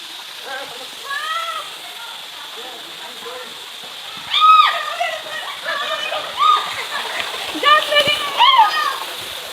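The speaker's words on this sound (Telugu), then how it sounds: "గంగమ్మ ధార వాటర్ ఫాల్స్." Gangamma Dhara waterfall at Punyagiri makes a constant rushing wash of falling water in the background, while voices talk over it.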